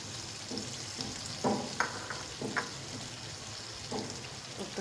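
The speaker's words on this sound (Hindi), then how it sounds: "4 से 5 मिनट के लिए इसी तरह भूनेंगे ताकि गोश्त में नमक अच्छी तरह मिक्स हो जाए, सारे स्पाइसेस।" Meat browning with spices in a pot for white biryani: a faint, steady sizzle punctuated by occasional clinks and scrapes of a stirring spoon, close by and quiet.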